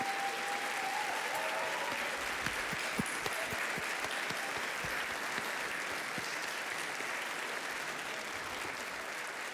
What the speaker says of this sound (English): let's all applaud those people right now